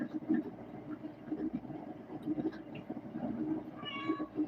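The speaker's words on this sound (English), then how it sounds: "You hear my pretty cat?" A cat meows near the end, a short harmonic cry rising over a steady low hum and faint background clatter.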